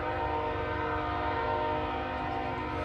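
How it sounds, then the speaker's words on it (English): A long, sustained train horn blaring steadily over a low rumble in Biloxi, Mississippi, sounding from a moderate distance with no voices. "that guy likes his train horn"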